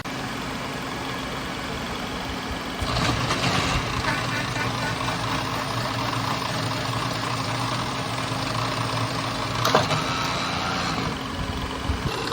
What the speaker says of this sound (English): We do this with a Brown and Sharpe horizontal mill.